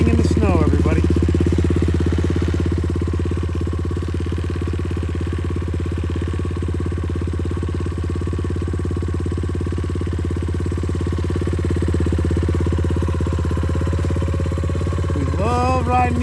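A small 90cc pit bike engine idles steadily in snow, a loud, close, even rumble that holds throughout, with a voice speaking briefly at the start and end.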